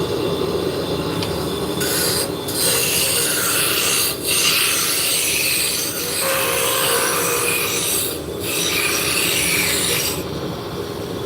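Wood spindle turning on a lathe with a roughing gouge, a steady loud rasping, scraping drone that runs nearly continuously, with a few brief dips as the tool lifts off the spinning wood.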